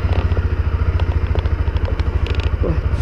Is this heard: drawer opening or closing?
no